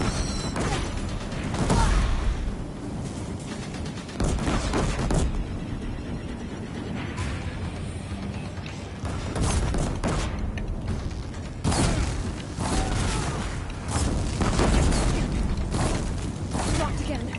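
Gunfire and a creaking, collapsing bridge in Horizon Zero Dawn Remastered on Very Hard mode: repeated loud booming bursts and crashes with mechanical creaks throughout, with dense game sound and some speech mixed in.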